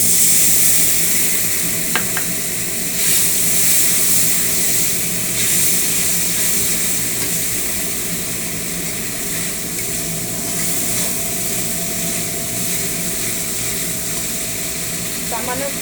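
Poppy seeds frying in a pan sizzle steadily with added water, a continuous close hiss with faint stirring scrapes throughout.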